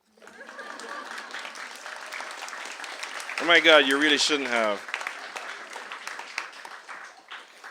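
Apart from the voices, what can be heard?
audience clapping at book reading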